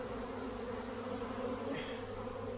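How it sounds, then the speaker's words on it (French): A returning swarm of honeybees on Réunion Island makes a dense, continuous buzz, loud and close, with the steady drone of many wings sustained throughout. "Le retour des abeilles."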